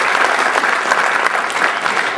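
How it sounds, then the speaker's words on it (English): Loud, close applause fills a swearing-in ceremony hall, a thick continuous wash of many hands clapping at once with no talk over it. "We could give Andre say another round of applause,"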